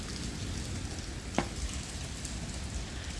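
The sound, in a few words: heavy rain pouring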